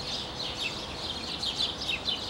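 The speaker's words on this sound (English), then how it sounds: "Listen to these fledgies. Look at these birds up here." Fledgling birds chirping in trees after morning rain, a steady stream of high, thin tweets from several young birds at moderate distance, with no talking.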